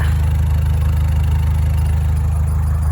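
A narrowboat's engine runs in gear, a steady low, rhythmic diesel thrum close by and loud, holding an even pace with no talking.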